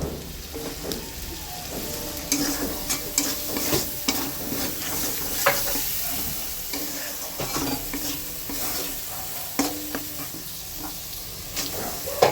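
Onion, ginger and garlic sautéing together in a pan with jackfruit dish preparation underway, a soft continuous sizzle and hiss broken by frequent scraping stirs and clinks of a spatula against the pan.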